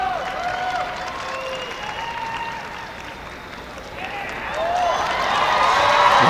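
Steady applause from a large crowd at the Westminster Kennel Club dog show as a Kerry Blue Terrier stands in the ring, with a whistle-like tone sweeping over it and the clapping swelling louder toward the end.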